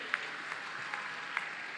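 Applause from an audience honouring India's Olympic hockey players, a steady wash of clapping with a few sharper individual claps standing out, fairly distant and moderate in level.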